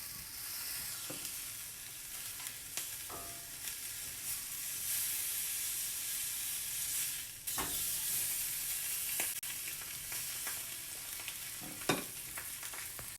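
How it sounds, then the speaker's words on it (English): A salmon fillet fries in a pan with a soft, steady sizzle and hiss, broken by a few clicks and light knocks from handling, fairly quiet and close, with no talking. "in the pan until the bottom of the salmon turns opaque"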